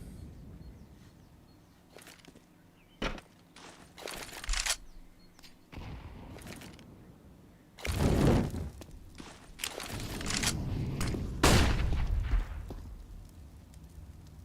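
Gunfire in a CS:GO pistol round during a 2v2 match, heard as scattered single shots and short bursts over quiet footsteps, with a louder dense cluster of shots near the middle.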